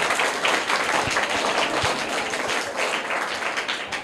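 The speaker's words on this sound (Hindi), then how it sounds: "तो इनके लिए भी जोरदार तालियां हो जाएं" Sustained applause from a crowd at a children's prize ceremony, steady dense clapping filling the whole stretch with a few sharper individual claps standing out.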